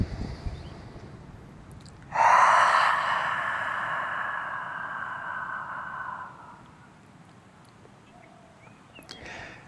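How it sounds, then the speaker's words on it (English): A strong, forceful yoga cleansing breath pushed through the throat, one long loud rushing exhale of about four seconds that slowly fades, alone with no talking. "It's a very strong breath, and it's very detoxing, and it's very beneficial for the body."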